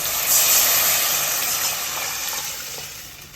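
Fish curry with onion, tomato and masala bubbling in a pot gives a steady, close hiss and sizzle, fading slightly before a sharp knock at the end.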